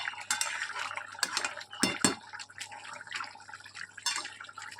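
A pot of potatoes and meat boiled together is covered with a lid: close metallic clinks, clatters and scrapes of cookware, with light stirring and dripping sounds in between and no talk.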